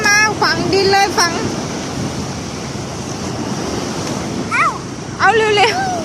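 Sea waves wash continuously onto a beach at Songkhla, with a broad roar of surf and wind buffeting the microphone while children's voices call out over it.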